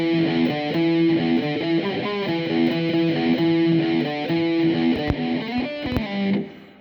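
A distorted electric guitar plays a riff as a steady, chugging pattern of repeated chords and notes, loud and close, ending with a quick fade. No one speaks.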